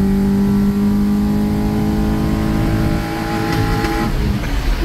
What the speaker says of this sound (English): when you just like tapping the gas in between shifts